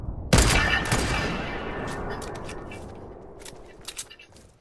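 Gunfire in Fortnite Battle Royale: a loud, sudden burst of shots that rings out and slowly decays, followed by a scattering of fainter shots.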